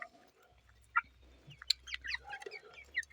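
Chickens cluck and chirp in short, scattered calls in a small poultry yard, against a quiet background with a faint low hum.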